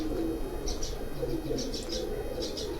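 Pigeons on a rooftop, low cooing with a few higher chirps repeating in short bursts over a steady outdoor background hum.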